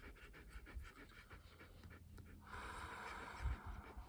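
Dogs pant steadily at close range in rapid breathy bursts, with a few snorts and heavier huffs mixed in, quiet overall and with no talking.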